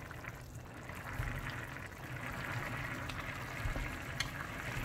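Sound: pouring water into rice pot

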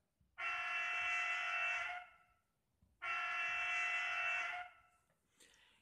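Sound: model train horn sound function

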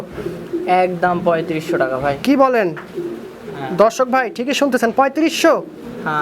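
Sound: pigeons cooing

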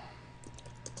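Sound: typing on a computer keyboard

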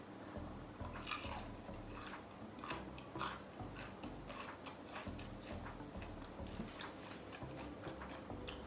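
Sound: biting and chewing crispy crunchy mushroom fritters

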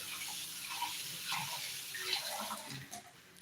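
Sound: water poured into a vessel of lentils

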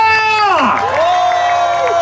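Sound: festival crowd applause and cheering

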